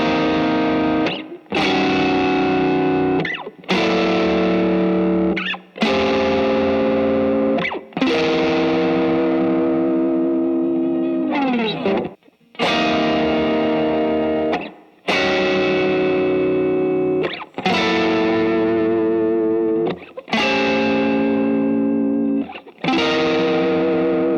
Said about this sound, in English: Now we're going to add some tube screamer with that Marshally stack.